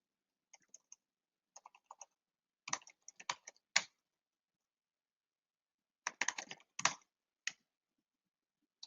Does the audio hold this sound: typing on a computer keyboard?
yes